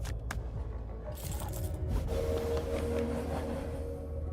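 Train sound effect in a video card game, a rumbling rail clatter with metallic jingling and brief sharp hits early on, settling into a steady rolling drone, with no talking.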